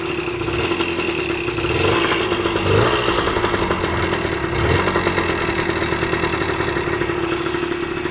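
A small dirt bike engine idles steadily up close, a loud, even putter with slight rises in revs and no talking.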